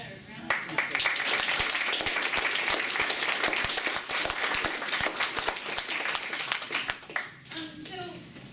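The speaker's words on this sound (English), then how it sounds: "let's give them a round of applause" An audience at a mental health psychology conference gives a panel a round of applause: loud, sustained clapping from many hands for several seconds, then tapering off as a voice starts speaking near the end.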